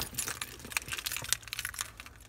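Keys jangle and clink with bright metallic rattles in a quick, uneven flurry, close by and fairly soft.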